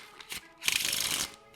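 Playing cards being shuffled up close: a short riffle of quick crisp flutters, briefly louder in the middle, then fading into quiet.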